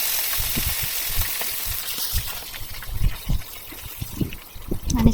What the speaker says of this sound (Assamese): লগতে ভাজি দিছোঁ এইকেইটা অকণমান মাছ